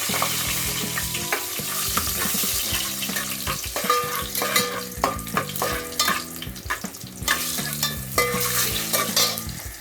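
Whole cloves, red chilies, bay leaves and cumin fry in hot oil with a bright, continuous sizzle, broken by repeated scraping and clinking of a spoon stirring against the pan.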